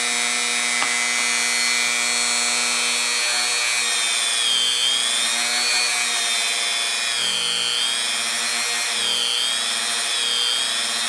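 A power drill whines steadily for about eleven seconds, boring stitching holes through leather for a knife sheath; the motor pitch rises and falls slightly as it cuts, loud and close, with no talk.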